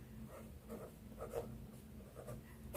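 A pen scratching across paper during a chemistry lesson on solids, soft faint strokes in short uneven bursts against a quiet room.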